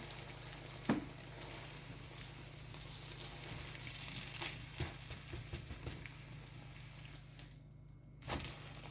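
A cheese omelet egg frying in a pan just after being flipped gives a faint, steady sizzle, broken by a few soft clicks and scrapes.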